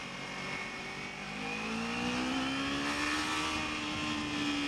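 A motorcycle rides through traffic on the 101 freeway near the 405 interchange, its engine tone rising steadily as it accelerates over a constant roar of wind and road noise, with no talking.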